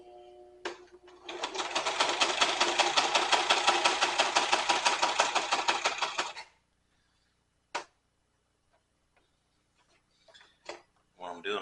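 A sewing machine stitches a leather wallet in a fast, even mechanical chatter for about five seconds, then stops, followed by scattered clicks and small handling noises.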